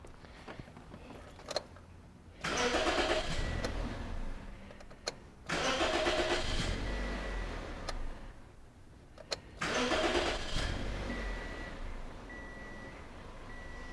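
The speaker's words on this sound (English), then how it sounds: "I'm going to go in and start the car a couple of times" A car engine cranks and catches three times in a row, each start followed by a few seconds of steady idling before cutting off, with quiet pauses between attempts.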